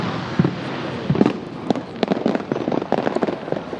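Fireworks burst over the River Foyle in Derry, a dense string of crackling pops and sharp bangs at varied distances, with glittery crackle filling the gaps.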